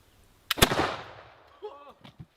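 A flintlock pistol is fired at a Highlander targe shield, giving one sharp close crack with a burst and a longer fading rumble, followed by brief voices.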